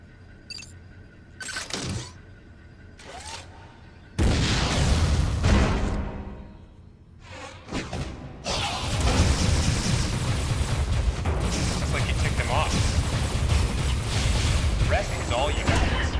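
Missiles blast in Metroid Other M, several sharp booming hits with shattering debris, then a long loud rumbling barrage of explosions that carries on to the end, with game voices heard early.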